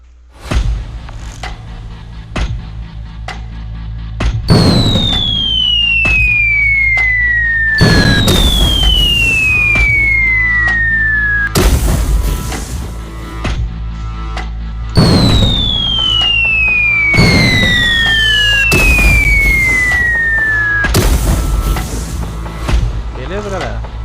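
Explosion effects in a pygame naval battle game, booming blasts with descending whistles repeating in a steady cycle over background music, loud and close, with a voice talking over parts of it.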